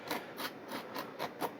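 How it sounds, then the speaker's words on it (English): Foam pieces of an FMS 70mm A-10 Thunderbolt II V2 RC jet model are scuffed before gluing, making six quick, close rasping strokes in an even back-and-forth rhythm. "let me scuff that up just a little bit because I am joining 2 pieces of foam together"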